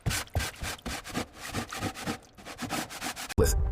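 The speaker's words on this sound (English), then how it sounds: "Using specialized equipment, the technician meticulously removes layers of rust flakes and dried marine residue," Rust flakes and dried marine residue being scrubbed off corroded wiring, a quick run of rhythmic rasping strokes close by, ending in a sudden louder burst.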